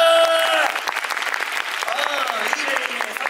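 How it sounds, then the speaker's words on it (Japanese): A theater crowd at a Universal Studios Japan live show breaks into loud, dense applause that fills the whole stretch, with a performer's voice carrying over the clapping at the start. "そんくらいでっかい拍手が欲しいんだよ"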